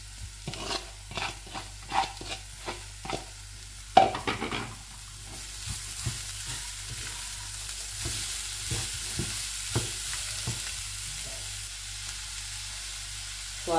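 Cauliflower stalks with curry leaves and chopped onion being stirred in a hot pan: repeated scraping strokes of a spoon over a steady close sizzle, with no talking.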